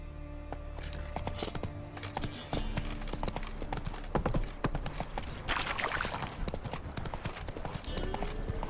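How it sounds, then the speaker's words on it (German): Hooves of a horse in The Witcher 3 clattering in a quick, irregular clip-clop rhythm across several seconds, close and fairly quiet, with faint game ambience around it. "Also müssen wir unser gutes Pferd herbeirufen."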